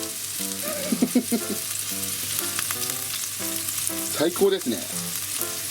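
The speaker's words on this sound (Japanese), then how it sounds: "今強火の状態にしてるので、こちらでちょっと焼き色つけていきます" A Japanese hamburger steak patty sears in a pan over high heat, a steady loud sizzle and crackle close by, while someone speaks briefly over it.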